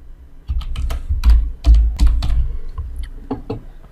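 Bursts of clicky keystrokes on a computer keyboard, typed in short uneven runs with brief pauses, close and clear with no talking.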